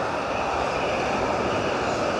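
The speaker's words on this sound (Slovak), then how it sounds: "Vlak." A train passes near a parked Volvo XC90 T8, giving a steady, fairly loud broadband rumble and rush that holds level throughout with no break.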